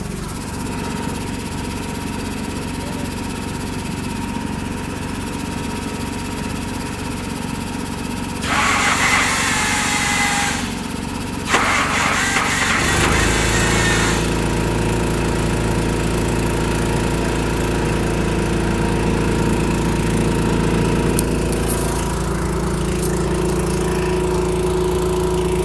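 Mack R600 truck with a troublesome starter motor, cranking and whirring on a starting attempt, followed by a heavier, lower engine rumble that carries on steadily to the end, close and fairly loud.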